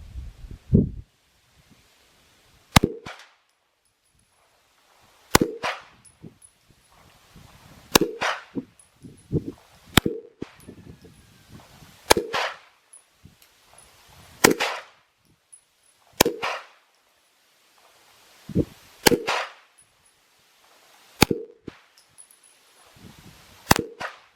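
Browning Hi-Power pistol fired at a target about 10 yards away, about a dozen sharp, loud single shots spaced a second or two apart, each with brief ringing echo and quiet handling sounds in between.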